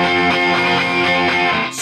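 A guitar chord rings through an Electro-Harmonix East River Drive overdrive pedal, thick and sustained with a gritty, buzzing tone, loud and alone.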